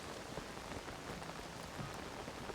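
Rain in the video game The Legend of Zelda: Tears of the Kingdom, a dense, steady hiss of falling rain and pattering drops, even and unbroken throughout, quiet in level with no voices.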